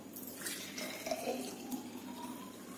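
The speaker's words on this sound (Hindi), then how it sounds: "तो इसके लिए मैं इसमें सबसे पहले पानी भर लूंगा" Water poured to fill a container for a simple home science experiment, a soft continuous trickling and running flow, fairly faint and with no talk.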